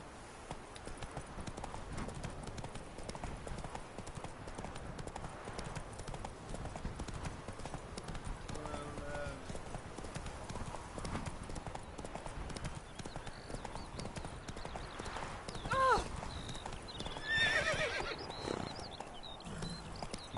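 Hoofbeats of Roach, Geralt's horse in The Witcher 3, drum along steadily throughout at a quick pace, fairly close and even, with a brief whinny-like call and other faint game sounds near the end.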